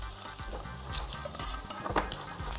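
Scallops and potatoes sizzling in olive oil in a pan while a spoon bastes them, a soft steady fry with light clinks and scrapes, close and fairly quiet with no talk.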